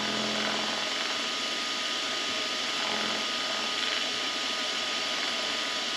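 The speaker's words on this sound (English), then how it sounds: "You can almost hear it hitting the high spots where that roughness is." Mini lathe cutting tool running slowly across rough metal stock, a steady broadband machining whir with faint irregular scraping where it catches high spots, close and continuous without talk.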